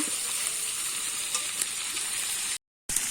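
Chicken frying in oil with a little salt: a steady, moderately loud sizzle with faint crackles throughout, broken by a brief gap of silence near the end, no talk.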